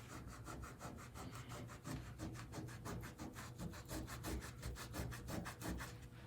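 A wet soapy cloth rubbed back and forth over a log wall, giving a steady rhythmic scrubbing swish of close, even strokes with no talking.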